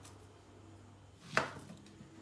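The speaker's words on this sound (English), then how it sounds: "chop your plantain in 3" A knife chops once through a plantain on a cutting board, a single sharp nearby strike standing out against quiet kitchen background.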